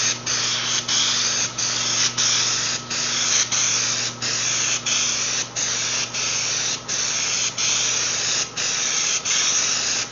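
Steady hissing spray of sound deadener from an aerosol can onto a 1973 Dodge Challenger door skin, in long continuous bursts broken by brief pauses, with a low electrical hum underneath.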